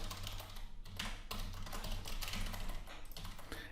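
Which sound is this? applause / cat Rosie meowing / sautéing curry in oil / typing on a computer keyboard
typing on a computer keyboard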